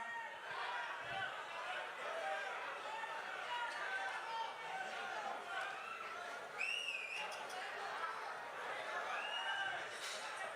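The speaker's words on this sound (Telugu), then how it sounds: "అంటే ఇది ఆనందంలో వచ్చే అరుపులండి," An audience at the Kannappa film pre-release event shouts and cheers with joy in a dense, continuous din, with whistles cutting through and a voice speaking over the noise.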